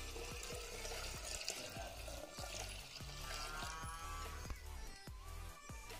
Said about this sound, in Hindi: और मैं पानी और ऐड कर देती हूँ।